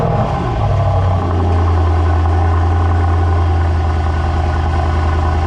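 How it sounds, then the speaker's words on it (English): A car engine cold-starts and settles into a steady, loud idle with a low, even rumble. "cold start."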